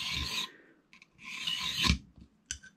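A hand file rasps across a cylinder lock key blank, cutting a valley in two long scraping strokes followed by a short scrape, close and clear with no talking.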